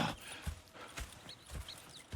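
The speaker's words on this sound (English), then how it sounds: "Go check the horses are ready." Faint horse hooves in Red Dead Redemption 2 clip-clop in a steady, even rhythm, several evenly spaced hoofbeats at a moderate walking pace.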